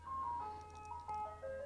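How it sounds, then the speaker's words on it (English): A tinny ice cream truck jingle plays a simple stepping melody over a low hum in a Five Nights at Freddy's remake game, brief and fairly quiet. "the ice cream truck is so loud"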